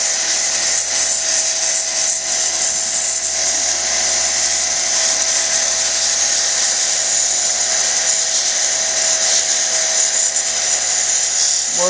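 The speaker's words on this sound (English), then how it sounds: "Gonna move to the 280 grit soft wheel." A 280 grit soft lapidary wheel grinds and shapes a freeform stone cabochon, producing a steady, loud, continuous whirring hiss with a faint scraping edge that holds without a break.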